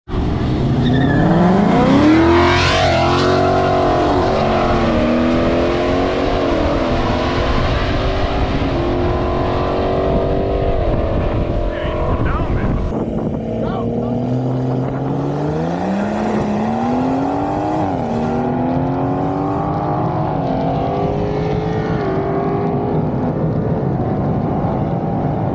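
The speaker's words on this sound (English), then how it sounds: "we got my Mustang versus Juan in the BMW" A Ford Mustang and a BMW street race on a Chicago street, engines roaring loud and close with rising and falling revs through gear changes and a brief tire squeal, continuous throughout with no talking.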